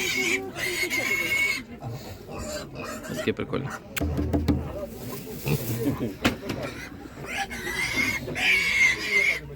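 Piglets grunt and oink close by in a noisy pen at a Ukrainian animal market, with people talking over the animal sounds throughout.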